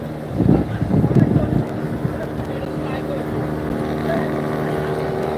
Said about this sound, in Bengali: ময়ূর দুই লঞ্চ কিন্তু এখন ছেড়ে যাচ্ছে